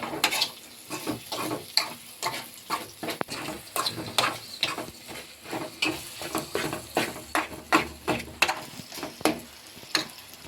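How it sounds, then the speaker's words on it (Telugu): Leftover rice pulihora with salt being stirred in a pan, a spoon scraping the bottom in regular repeated strokes over a faint sizzle, close and even-paced. "ఉప్పు వేసిన తర్వాత ఇలా కలిపి వేసుకున్నామండి అడుగంట కలుపుకుందాం మరి"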